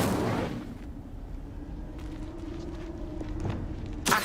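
An Incendio fire spell cast in the Hogwarts Legacy video game, a brief burst at the start fading into a low rumble, with a few thuds and a sharp hit at the end.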